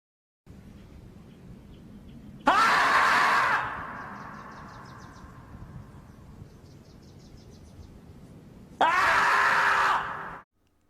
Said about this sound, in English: That scream was dubbed in with a voiceover by a human.